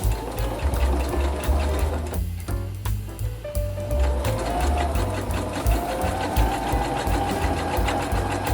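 A sewing machine stitches quilt pieces for a peacock quilt in steady, close, loud runs of rapid mechanical whirring, with a brief pause near the start before the stitching resumes.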